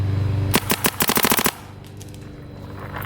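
A paintball marker fed by a Dye Rotor LTR hopper fires a rapid string of about a dozen sharp, evenly spaced shots over roughly one second, close and crisp, followed by quiet background hiss.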